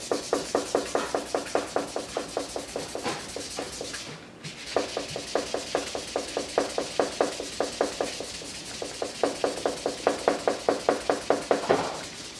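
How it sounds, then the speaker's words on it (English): A magic eraser scrubs back and forth over the label of an NES game cartridge in rapid, steady strokes, close and distinct. The rhythmic rubbing pauses once briefly and then resumes at the same pace. "here's an example of the writing on a cart with a magic eraser"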